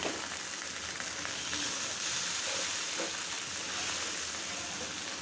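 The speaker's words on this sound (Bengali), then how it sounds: "পটল ভুনা এখন এটা তেলে ভাজা ভাজা হবে।" Onion and spices frying in hot oil for potol bhuna, a Bengali pointed gourd dish, producing a steady close, even sizzle throughout with no talking.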